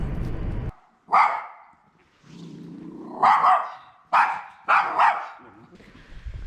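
A dog barks several times in sharp bursts, close by, with a low rumble and pauses between the barks.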